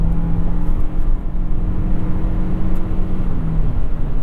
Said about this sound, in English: The engine doesn't sound so terribly overtaxed or worked when you're getting on it hard.